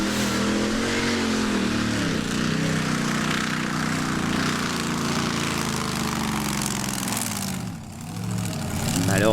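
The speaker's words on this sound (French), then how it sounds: "Le moteur tournait mal en raison d'un problème de pompe de méthanol." Pulling tractor with its engine running rough from a methanol pump problem at a tractor pulling event, a loud, steady, uneven drone that sags briefly near the end and then swells back up.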